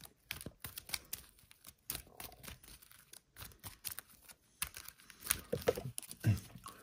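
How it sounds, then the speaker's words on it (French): A deck of Dune Imperium board game cards is shuffled by hand at close range. Quick papery riffles and snaps come in irregular bursts, and the cards tap and rustle between them. "Voilà, je vais bien mélanger."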